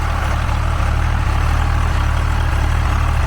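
A Swaraj 735 tractor with a Kirloskar engine and 13-inch tyres idles close by, a steady, loud low rumble with an even throbbing beat running unbroken throughout, with no talking over it.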